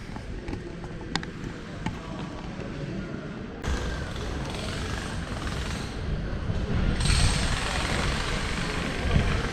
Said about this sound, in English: So noisy when they start working on the road.